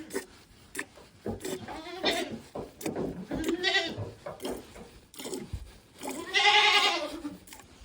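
A farm goat bleats several times close to the microphone, wavering cries spaced by quieter gaps, with the longest and loudest call near the end.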